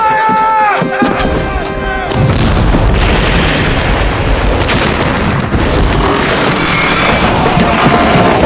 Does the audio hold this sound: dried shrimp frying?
no